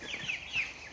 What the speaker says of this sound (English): In our basement bathroom, there are some pretty cool looking chickens in here.